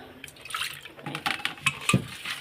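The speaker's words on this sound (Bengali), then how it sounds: "এটা ধুয়ে একটুখানি জল দেবো" Water is poured into a pot of washed chana dal in a home kitchen, a short, close, splashing trickle with a few louder gurgles.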